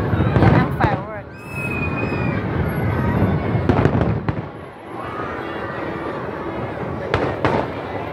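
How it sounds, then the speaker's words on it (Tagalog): Fireworks at the Mid-Autumn Festival in Macao pop and crackle at a distance with whistling streaks rising, while people chatter and exclaim over the bursts. "Yan ang fireworks."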